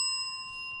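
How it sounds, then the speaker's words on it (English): A small bell rings once with a clear, sustained metallic tone, close and alone, chiming to welcome a new viewer during a live car-talk stream. "So you get a bell for being part of the program tonight."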